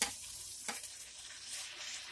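Garlic frying in a pan for a spicy desi-style mutton masala gravy, a steady bright sizzle with a brief stirring scrape, close and continuous with no talk.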